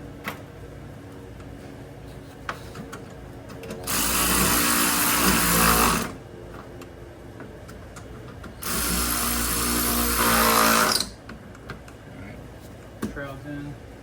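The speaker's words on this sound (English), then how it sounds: "I'm gonna tighten the bolts up." Power tool runs up on fan shroud bolts of a Toyota Tundra with a 4.7L engine, two sustained loud bursts about two seconds each separated by quieter shop handling noises.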